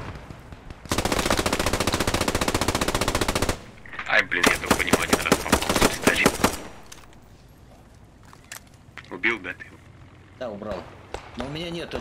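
Machine gun fire in the World War II shooter Post Scriptum, a long loud sustained burst followed by shorter bursts and scattered shots, with voices talking over and between the gunfire.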